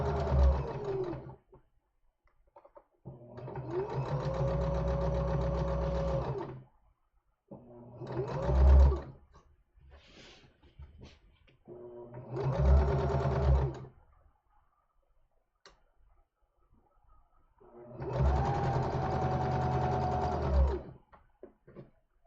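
A sewing machine stitching the collar of a summer tunic in five separate bursts of steady whirring, each stopping briefly before the next run begins, close and clear.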